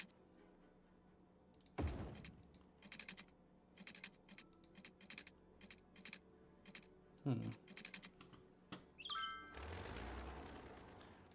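Computer clicks and keyboard taps while building paths in Cities: Skylines, a steady scatter of light, close clicks through the whole stretch, with a couple of louder thumps and brief speech from the player in between.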